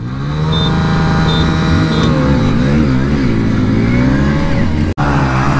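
Hero Splendor motorcycles, one fitted with Xtec, accelerate hard side by side in a drag race, a loud, steady engine drone rising in pitch for several seconds with a brief dropout near the end.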